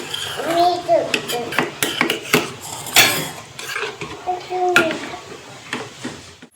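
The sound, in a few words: stirring yogurt mixture in a pot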